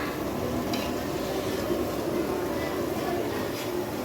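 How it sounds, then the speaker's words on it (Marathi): Tempering sizzling in a pot for chicken curry, a soft continuous frying hiss with faint stirring, heard at a low level under background chatter. "इकडे भात इकडे गावठी आता फोडणी आहे"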